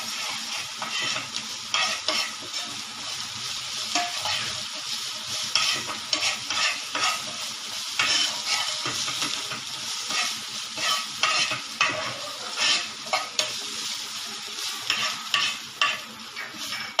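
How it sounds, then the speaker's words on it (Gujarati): Urad dal and ginger-chilli-garlic paste roasting in a pan, a loud close sizzle with brisk repeated stirring scrapes in an uneven rhythm throughout, with no talking. "અડદની દાળ નાખું એના જોડે 1 ટેબલ સ્પૂન આદુ મરચાં લસણની પેસ્ટ બી નાખી દેવાની છે અને એને શેકી દેવાનું છે."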